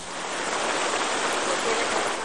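Pouring rain in the coca-growing countryside of Peru, a dense, steady hiss of heavy downpour that stays even and unbroken throughout, with no voices or other sounds over it.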